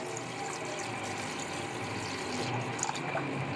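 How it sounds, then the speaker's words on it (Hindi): Water being poured into a cooking pot to make fish curry gravy, a steady, continuous rushing splash close by with no talking. "अब इसके अंदर हम डाल देंगे पानी।"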